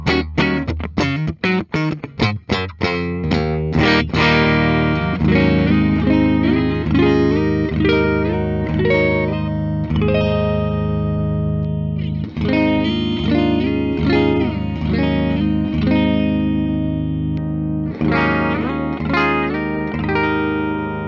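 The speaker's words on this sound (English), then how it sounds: "I love that neck pickup." Clean 2017 B&G Little Sister electric guitar on the neck pickup with a warm, round, woody tone, opening with quick plucked notes, then sustained chords and melodic runs ringing with light reverb.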